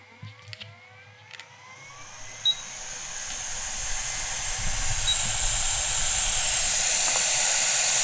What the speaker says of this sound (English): What we are going to do is get our heat gun and start heating this area up.